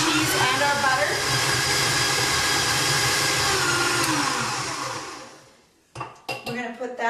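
An electric mixer creams cream cheese, butter and sugar in a bowl, its beaters whirring steadily and loudly and scraping the bowl, then winding down and stopping, followed by a few clinks.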